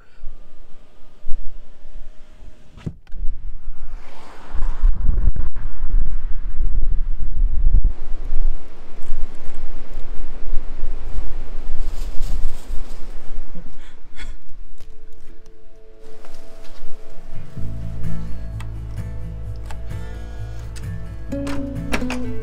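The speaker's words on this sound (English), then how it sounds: "unfortunately, it's way too windy." Strong wind buffets the microphone in heavy, roaring gusts, followed later by a steady mechanical hum and clicking.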